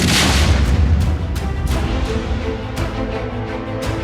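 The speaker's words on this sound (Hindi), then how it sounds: "ये पहला धमाका, ये दूसरा धमाका, ये तीसरा धमाका और ये चौथा।" Repeated loud booming blasts from an army bombardment during an armed encounter in Kokernag, Jammu and Kashmir, with a heavy low rumble that stays up between sharp impacts spaced through the stretch.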